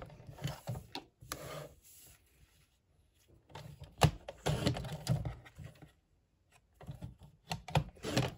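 Cardstock being cut into 1.5 inch squares on a paper trimmer, with a run of quick clicking and scraping slices and a few pauses between cuts, close and fairly quiet.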